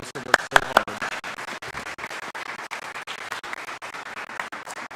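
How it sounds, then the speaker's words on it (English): A congregation at a Sunday worship service in church gives a round of applause: a steady, moderately faint crackle of many hands clapping, with a few sharper claps at the start. "and applause to those who worked so hard."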